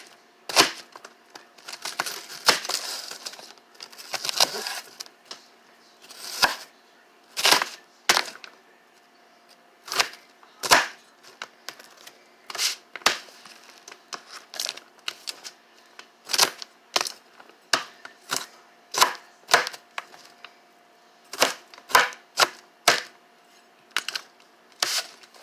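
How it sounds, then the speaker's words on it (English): A knife gives food a rough chop on a wooden board, a long run of crisp, irregular thuds and taps, close and clear with short pauses between bursts. "Give it kind of a rough chop."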